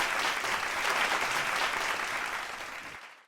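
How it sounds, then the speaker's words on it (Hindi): Audience applause greets the senior lyricist and poet Satish Chandra Saral at a poetry gathering, a steady, dense wash of clapping that holds for about three seconds before stopping abruptly. "सतीश चंद्र सरल जी का जोरदार तालियों से स्वागत करते हैं।"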